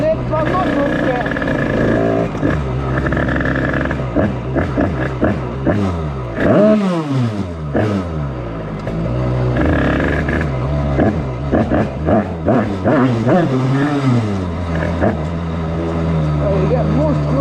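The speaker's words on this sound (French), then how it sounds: "monstrueux la moto V4" A V4 motorcycle engine revs hard and close, its pitch climbing and dropping repeatedly in loud sweeping bursts.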